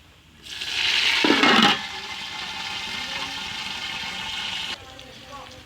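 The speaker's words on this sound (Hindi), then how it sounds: "अब हम इसमें थोड़ा सा पानी डालेंगे" Water pours steadily into a cooking pot of ghee for aloo pulao, a loud splashing rush that starts strong, settles into a continuous stream, then stops.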